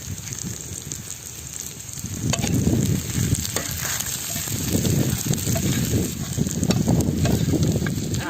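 Curry leaves hit hot oil with frying snail meat, loud steady sizzling and spitting that swells as they drop in, with stirring over continuous crackle.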